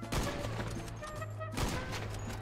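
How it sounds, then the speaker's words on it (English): Two sharp sniper rifle shots in a video game, each a loud close crack with a booming tail, spaced about a second and a half apart over a low hum. "I'm gonna snipe some of them."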